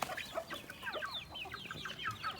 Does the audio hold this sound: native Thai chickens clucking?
yes